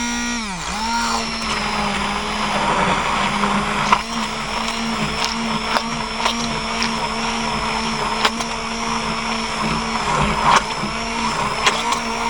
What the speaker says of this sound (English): This blender.